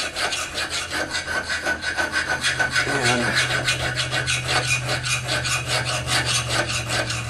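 A rasp scrapes wood in quick, rhythmic back-and-forth strokes, loud and close, with a low steady hum underneath.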